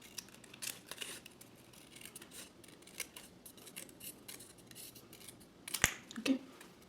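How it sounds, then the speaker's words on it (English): Scissors cutting paper while making gift cards and message folios, a quiet series of light snips and crisp rustles, close and sparse, with one sharper snap near the end. "or I can use my scissors."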